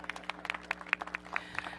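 Scattered applause from a crowd at an outdoor groundbreaking for an affordable housing and retail development, distinct claps spaced irregularly at moderate volume, thin and brief rather than a full roaring ovation.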